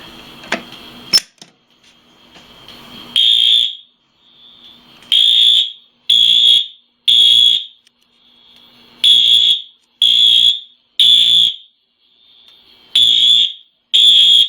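A loud electronic fire alarm, set off by a pull station during a system test, blares in repeated short pulses, each burst about half a second long with brief silent gaps between them.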